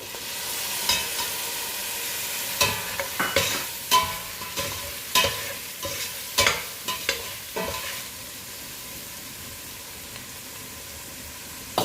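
Tomatoes fry in a veg biryani pot while a spoon stirs them, sharp scraping clatters recurring every second or so over a constant close sizzle, then the stirring stops and only the frying continues.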